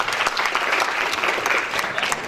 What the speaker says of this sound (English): Give yourself a hand of applause.